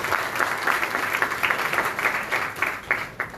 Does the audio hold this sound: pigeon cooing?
no